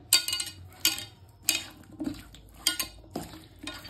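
Raw chicken tossed with white oil in a bowl for Bengali Tok Jhal chicken, with a steady rhythm of sharp metallic clinks and scrapes against the bowl.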